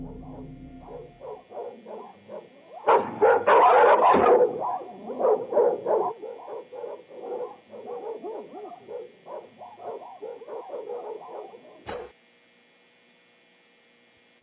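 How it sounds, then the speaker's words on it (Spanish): Several dogs bark repeatedly in a rapid, overlapping chorus on a security camera recording, loud at first then continuing at a distance over a steady electrical hum, ending with a click and near silence. "escuchamos perros ladrando"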